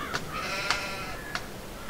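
Sheep bleat in the farming game Farming Simulator 22, with three short, fairly faint calls spaced evenly apart and no talking.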